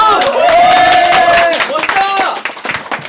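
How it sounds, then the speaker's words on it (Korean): A studio audience claps and cheers after a juggling stunt on a Korean variety show, loud, dense clapping mixed with excited shouts and voices that fade toward the end. "박수!"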